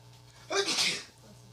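A single loud, breathy sneeze bursts out midway through a casual indoor conversation between several people.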